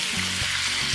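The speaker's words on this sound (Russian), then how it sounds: "В принципе, мясо жарится недолго" Meat sizzling in hot vegetable oil in a pan, a continuous close hiss with a faint low hum underneath.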